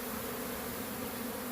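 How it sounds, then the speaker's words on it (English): Honeybees buzz steadily in a low, continuous drone around a caught swarm holding nine mated queens, fairly faint and without any talking. "I didn't get all the bees out. There were still a few in here."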